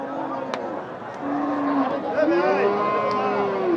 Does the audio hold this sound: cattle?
yes